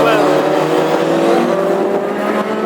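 A Mark 1 hot rod race car at a Tipperary oval meeting drones steadily under loud race commentary, its engine note continuous and busy with a few pops from uneven breathing.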